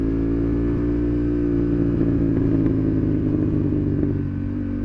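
A Honda CB750 Hornet motorcycle holds a steady, loud engine drone while riding, with a slight dip in tone near the end as it shifts down.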